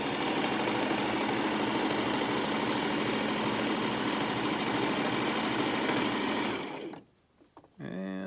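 A sewing machine runs steadily for about seven seconds, top stitching the folded hem of a Christmas stocking, a continuous close whirring drone that stops abruptly near the end, leaving near silence.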